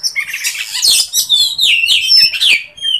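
Caged kacer birds (magpie robins) sunning together chirp and squawk in rapid, overlapping calls, bright sharp notes close by and continuous throughout with no talking.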